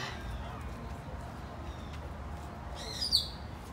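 At a bird rescue, faint chirps sound over a low outdoor hum, followed by one brighter, louder call near the end.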